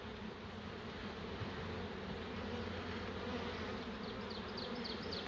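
Honey bees in an opened hive during a hive split fill the air with a dense, continuous buzzing hum, close and steady, with no voices.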